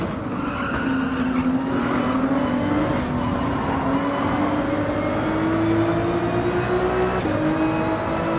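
Race cars running through highway traffic in Gran Turismo 7, a loud sustained engine roar with rising gear-change whines and repeated upshifts, steady and close throughout.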